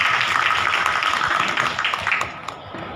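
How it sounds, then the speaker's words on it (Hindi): Applause from an audience welcoming Delhi Police officials, including the Joint Commissioner of Police South, at a public event; dense steady clapping fills the whole stretch, easing off slightly toward the end. "आप तालियों के साथ हमारे साथ जुड़े रहें"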